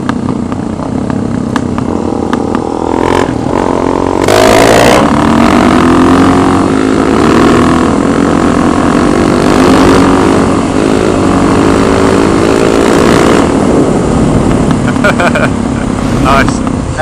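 A motorcycle engine revs loud and steady through a wheelie practice run, pitch rising and falling in long sweeping strokes with a sharp roaring burst near the start, while people talk over it.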